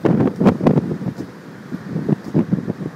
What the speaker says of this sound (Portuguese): Uma ventania enorme.